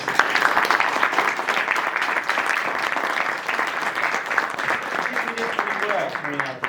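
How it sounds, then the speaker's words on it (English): An audience applauds after an experimental archaeology talk, dense, even clapping from a roomful of people that carries on steadily and fairly close, fading slightly at the end. "let's give Ben a round of applause"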